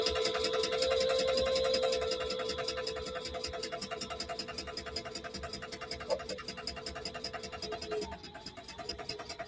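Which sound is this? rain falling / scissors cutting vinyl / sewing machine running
sewing machine running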